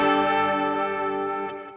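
An electric guitar chord rings out through a BOSS GT1000CORE with a touch of subtle distortion grit, sustaining bright and full before slowly fading over under two seconds.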